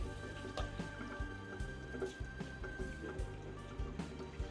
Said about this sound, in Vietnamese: Giờ bạn xả nước đi không?